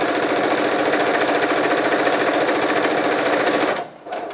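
A sewing machine runs steadily as it stitches a seam in fabric, a fast even mechanical rattle close by that stops briefly near the end before restarting.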